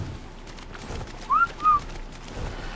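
An Oviraptor creature in Ark Survival Ascended gives two short, clear whistling calls in quick succession, rising and then level, over a low steady game ambience.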